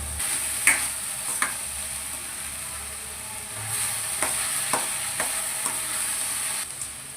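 Raisins, cashews and cardamom fried in ghee in a pan for carrot halwa, a steady soft sizzle with scattered scraping stirs and light clinks, close and without talk.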